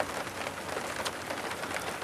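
Rain falls steadily in a soft, even patter across the whole stretch, fairly quiet and with no voices.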